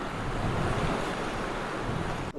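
Rough ocean surf off the coast of Jeju, Korea, on a stormy day: a steady, loud wash of breaking waves with wind noise buffeting the microphone, with no voices.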